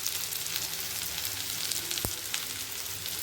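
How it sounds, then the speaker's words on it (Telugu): Small onions and ginger frying in a pan for a prawn dish, a steady hiss of hot oil with a single sharp tap midway and light spatter. "చిన్న ఉల్లిపాయ, అల్లం వేసేస్తున్నాను. ఇవి కూడా దాంతో కొంచెం వేగడానికి అనమాట."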